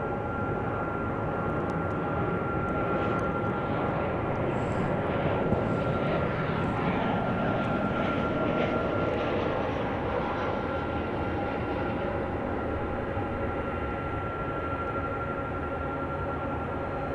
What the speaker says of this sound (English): It's a big cargo plane. That one belonging to the Royal Air Force.